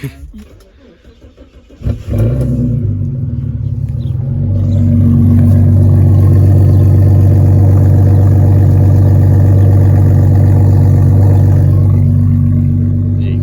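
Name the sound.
car engine idling to warm up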